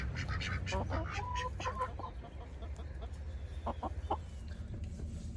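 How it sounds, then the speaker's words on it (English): Several chickens call and cluck nearby in a yard, with overlapping squawks and short calls early on that thin into scattered clucks, a voice talking among them. "Your other chickies are calling you over there"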